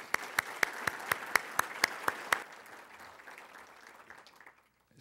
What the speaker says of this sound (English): Please join me in a round of applause to recognize their hard work and volunteerism.